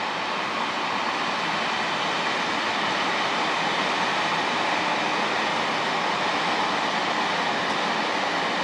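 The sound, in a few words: passing train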